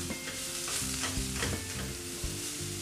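Vegetarian pastel de choclo filling cooking in a pan, a steady close sizzle and frying hiss with light stirring throughout, alone without speech.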